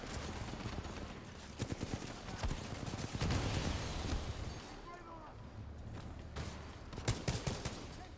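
Gunfire in the first-person shooter Titanfall 2, a steady run of sharp rapid shots over constant game ambience, with someone commenting throughout.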